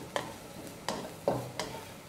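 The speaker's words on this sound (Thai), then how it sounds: "ผัดให้มีกลิ่นหอมดีเลย" Freshly pounded curry paste is stir-fried in a little oil in a pan, with four separate scrapes of a spatula over a faint sizzle, each stroke short and close.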